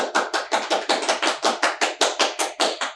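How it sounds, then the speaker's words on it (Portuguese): Applause for a first-place student: about sixteen steady, evenly spaced hand claps, loud and close, with no voices. "vamos bater palmas para o Max, primeiro lugar"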